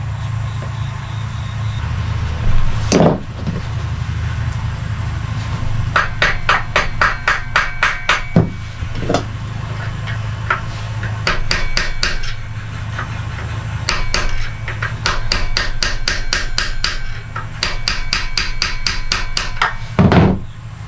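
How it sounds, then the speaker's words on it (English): Sharp metallic hammer blows strike a pressure washer motor being fitted to a lawn mower, coming in quick rhythmic bursts of several hits each, close and loud over a low steady hum. "So I was doing that hammer trick that you guys seen right before the camera shut off."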